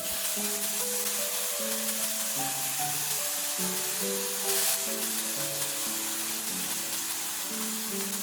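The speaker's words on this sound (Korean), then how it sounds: "향이 올라오면 양념장 한 큰술 넣고 간이 배이게 먼저 볶아주세요" A loud, steady sizzle of seasoning sauce stir-frying in a hot pan for spicy webfoot octopus, continuous throughout with faint scraping and no talk.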